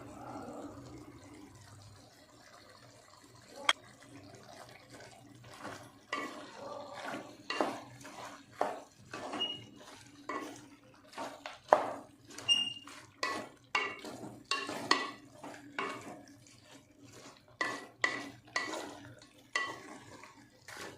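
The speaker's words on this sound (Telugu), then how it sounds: "ఇలాగా బాగా కలుపుకోవాలి" Chicken fry masala is stirred in a pan. A spoon scrapes and knocks against the metal in irregular strokes over a soft background sizzle, growing busier and louder as the stirring goes on.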